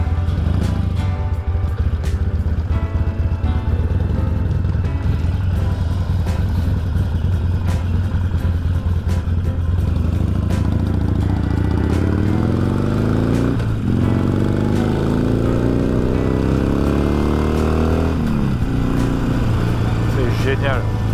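A Harley-Davidson motorcycle engine runs steadily throughout while riding, a deep continuous rumble with a few swelling revs, heard close and loud, with a rider talking over it.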